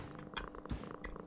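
Purring from a black tuxedo cat in a video game: a brief, low, soft rumble with a couple of faint clicks, nothing else audible.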